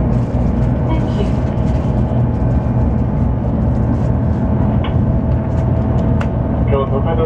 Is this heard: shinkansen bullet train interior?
yes